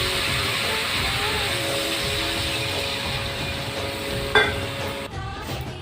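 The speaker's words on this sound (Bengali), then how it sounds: "এরপর আমি জলটা ঢেলে দেবো।" Spice masala frying for a village-style spicy Calbayas fish curry gives a dense, continuous sizzle with stirring, then water poured in makes the sound surge and change near the end.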